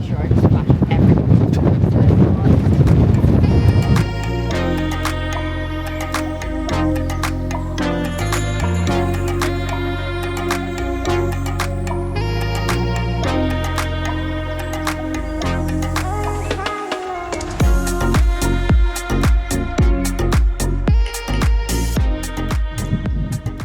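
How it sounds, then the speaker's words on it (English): Strong wind buffets the microphone at a harbour in Mykonos, with a rough roaring rumble loudest at the start, then partly covered by music. "It's windy."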